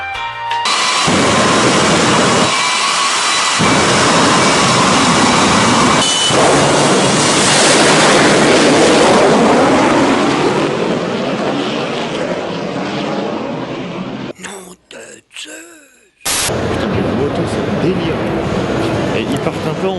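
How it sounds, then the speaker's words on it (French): Jet dragster car powered by an aircraft engine gives a loud, sustained roaring whoosh that fills most of the stretch, dips briefly with a few sharp gaps, then roars on; people talk over it. "Nous avons carrément une voiture de drague. Et le truc qui est délirant, c'est que c'est pas une voiture de drague un peu comme les autres. C'est qu'elle a un moteur d'avion derrière"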